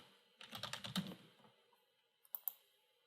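Quick run of computer keyboard keystrokes, a dense burst of clattering taps followed after a pause by a few isolated key clicks, close and fairly quiet with no voices.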